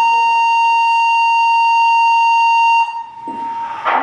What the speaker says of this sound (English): Our fire alarm test is concluded.